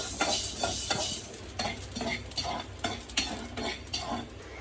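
Rice and whole spices dry-roasted in a pan to make chili powder, stirred with continuous close scraping and rattling of grains against the metal, fairly loud and busy throughout, with no one speaking.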